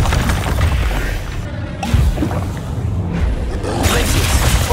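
Bombarda spell blasts in the video game Hogwarts Legacy: loud, dense explosive booms and crashing bursts repeat over a constant rumbling game soundtrack, with sharp impacts near the two-second mark and toward the end.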